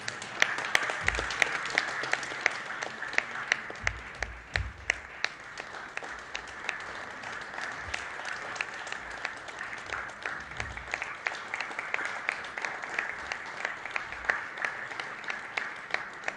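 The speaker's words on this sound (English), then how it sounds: "We can continue the claps going." Sustained audience applause at a logo unveiling on stage during the launch of an India BFSI forum at T-Hub, steady dense clapping with scattered louder claps throughout, moderately distant.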